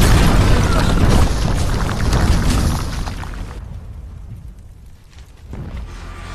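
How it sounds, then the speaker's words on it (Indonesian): Heavy French long-range cannon fire in a battle near a forest edge, a loud sustained rumble of booms filling the opening seconds before fading into a quieter, distant roar. "Meriam jarak jauh Perancis sanggup menjangkau meriam-meriam di tepi hutan itu."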